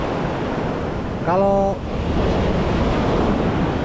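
Steady wash of surf at Lemo-Lemo beach, continuous broadband waves with wind buffeting the microphone, loud and close, briefly overlaid by a short voiced word.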